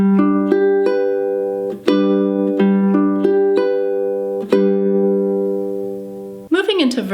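Ukulele strumming a song in a steady pattern, bright chords ringing clearly with regular strum accents at a moderate tempo, close and alone, ending in a brief rapid flurry.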